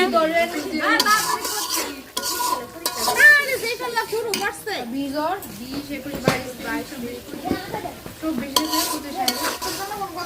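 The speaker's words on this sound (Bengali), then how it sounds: "এখন সব মশলা ভালোভাবে কষায় নিই" Spices fry in a pan while a spoon scrapes and clatters against the metal, steady sizzling and stirring running under near, overlapping conversation throughout.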